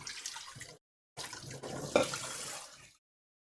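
Tap water splashes into a bowl being rinsed in a home kitchen, in two short bursts of running water separated by a brief silence, close and moderately loud.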